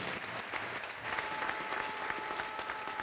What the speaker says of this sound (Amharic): ለእግዚአብሔር ክብር አጨብጭቡ እስቲ